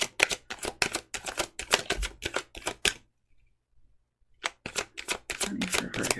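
Tarot cards riffled and shuffled in a rapid run of crisp, close clicks, pausing into near silence for about a second and a half before the shuffling resumes.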